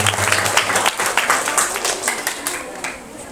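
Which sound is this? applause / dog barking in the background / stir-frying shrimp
applause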